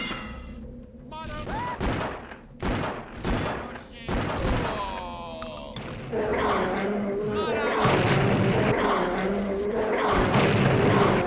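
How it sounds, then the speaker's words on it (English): Dynamite explodes in a horror video game as a string of sharp, booming blasts and thuds, some overlapping, with a person talking excitedly between and over them. "I am just kind of throwing dynamite around for funsies."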